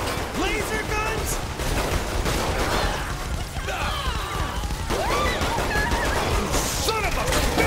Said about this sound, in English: Seriously? Laser guns?